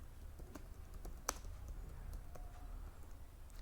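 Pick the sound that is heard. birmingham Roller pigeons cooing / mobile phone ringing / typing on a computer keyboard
typing on a computer keyboard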